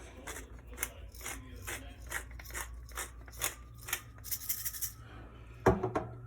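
A pepper mill grinds pepper over a Spanish tortilla egg mixture, giving a close, rhythmic series of crunchy, ratcheting twists with a brief louder rattle near the end.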